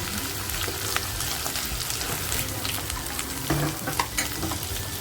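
Masala sizzles in hot oil in a pan for Kolhapuri mutton rassa, making a loud, steady, close crackle with stirring scrapes and a brief clink late on.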